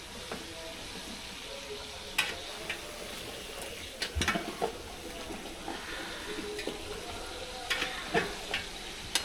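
Chicken is stirred and fried in a spice masala in a pan, a low continuous sizzle broken by sharp scraping and clinking of the spatula at irregular intervals, with faint voices in the background.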